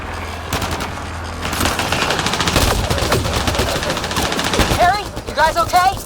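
Rapid machine-gun bursts and dense gunfire fill a video game battle, loud and sustained, as a voice shouts over the shooting near the end.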